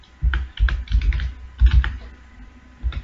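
Someone types a variable name on a computer keyboard: a quick, close burst of several key clicks, a short pause, then a few more taps.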